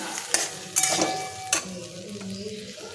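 Salt, ginger-chili paste and turmeric sauté in a pan, with a soft continuous sizzle broken by a few sharp spoon scrapes and clanks as the mixture is stirred.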